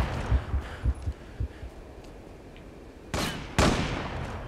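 Gunfire in the online shooter game Zula: a series of sharp, separate shots with brief gaps, ending in two louder, heavier bursts close by.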